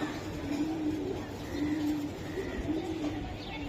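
A pair of pigeons coos softly in repeated low, rolling phrases over a steady hiss of background noise, fairly faint and close.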